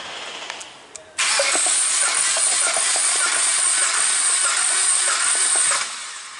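A BMW N52 2.5-litre engine cranks steadily for several seconds during a compression test, a rapid rhythmic chug of the starter, loud and close, then cuts off.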